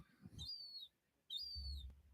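Hungry birds call while feeding, giving two short, thin high-pitched whistled chirps with a gap between them, faint over low background rumble.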